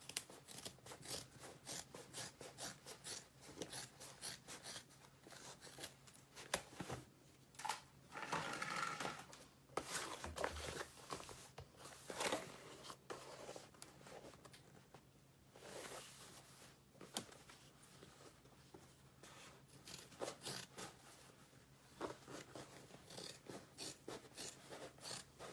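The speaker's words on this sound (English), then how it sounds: "now we're gonna cut off all this extra seam allowance on the side." Scissors cut away extra seam allowance along the side of a vinyl tote bag, producing repeated close, crisp snips and rasping blade strokes in an irregular rhythm across a long quiet stretch, with no talking.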